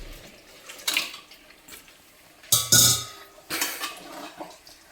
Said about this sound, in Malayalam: നമ്മൾ ചിക്കൻ ഇടുകയാണ്